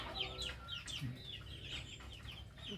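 A chicken clucks in short repeated bursts, fairly quiet, with soft background noise around it.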